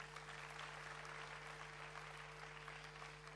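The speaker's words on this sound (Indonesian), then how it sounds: "Beri tepuk tangan yang meriah betul" Congregation at a church service breaks into lively, dense applause, a continuous crackle of many hands clapping at an even level, with a steady electrical hum underneath and no talking.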